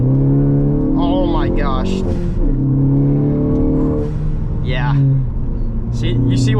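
A 2018 Ford Focus ST turbo four-cylinder engine revs hard and climbs through the gears, loud and close, with turbo whooshes between shifts while a person briefly exclaims over it.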